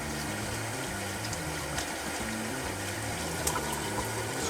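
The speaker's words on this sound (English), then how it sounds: "Hot water's coming from the other end of the house, and we're cleaning our brush" Hot water runs steadily from a tap while soap is rinsed from a shaving brush, a close, even rushing and trickling with no voices.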